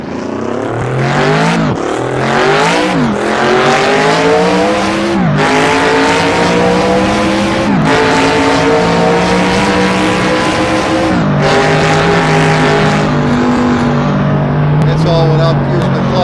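A Mercedes-AMG C63 engine revving hard while driving, loud rising and falling gear-by-gear pulls with sharp shifts and a throaty growl, close and continuous throughout.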